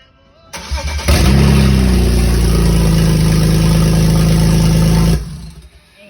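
BMW N54 engine with catless downpipes cold-starts with a sharp crank and roar, then settles into a loud, steady high idle for about four seconds before cutting off abruptly, no talking.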